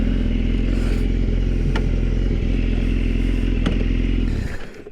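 BMW HP4 motorcycle engine running loud and close, a steady rough idle with clattery mechanical ticks and a couple of sharp clicks, then cutting off abruptly near the end.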